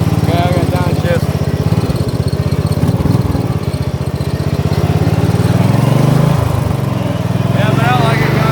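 A small engine on an offroad Murray runs loudly and steadily with a rough, throbbing mower-like drone that rises and dips slightly, while someone talks over it.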